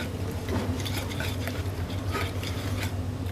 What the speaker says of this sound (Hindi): और इसको अच्छे से मिक्स कर लेंगे।